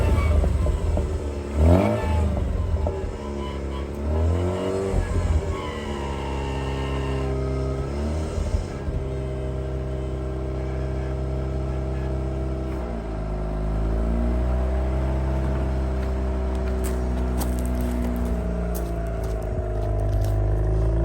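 A Mazda RX8 rotary engine that has sat unused for 2.5 years cranks and catches on a large booster charger, then revs loudly and settles into a steady, rumbling idle, close up with no talking.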